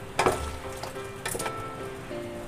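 Meat for biryani sizzles and fries in a pan, a steady crackling hiss with a few louder bursts of spatter as it is stirred, close and alone.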